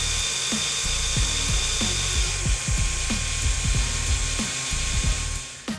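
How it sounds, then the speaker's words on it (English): A loud, steady mechanical whine and rattle with repeated ticking pulses, like noisy 3D printer fans and motors running up close. "here's what it sounds like"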